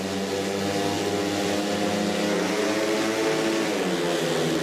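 Speedway motorcycles roaring off the start of a race heat at a Slovak open championship meeting, a dense loud engine drone with rising and shifting pitch from several bikes, continuous throughout.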